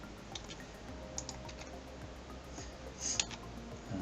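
Keys clatter on a computer keyboard in short irregular bursts of clicks, fairly quiet against a steady low background hum, with a brief cluster of sharper taps near the end.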